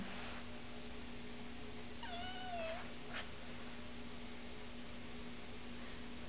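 A cat gives one short, clear meow partway through, heard fairly close over a steady low electrical hum and faint background hiss.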